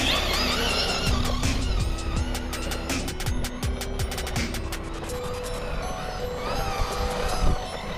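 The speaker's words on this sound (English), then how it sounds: "Nice drift." An FS Racing Atom 6s RC buggy drifts across dirt and sand, its motor whine rising and falling in pitch with scrabbling tire noise and gritty crunches, close and fairly loud.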